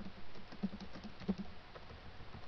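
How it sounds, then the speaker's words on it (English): Quiet, rapid typing on a computer keyboard, a fast irregular patter of soft keystrokes over a low background hum with no talk. "Okay, then you start typing."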